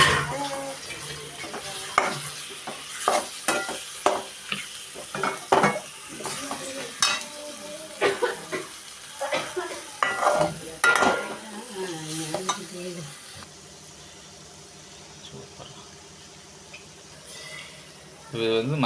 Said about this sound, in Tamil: இப்போ நம்ம இறாலை போடுறோம்.